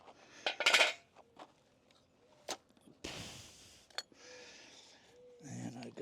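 Metal tongs clink and rattle in a few sharp bursts, loudest near the start, with a short hissing rush partway through and quiet gaps between.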